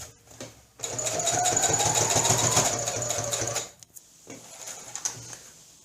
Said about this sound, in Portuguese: Então, vamos lá fazer o pesponto.